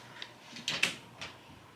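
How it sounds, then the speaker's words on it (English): A door closes indoors in a home with cats, heard as a few quiet clicks and a soft latch thud, faint and close. "I'm closing the door, Marsh."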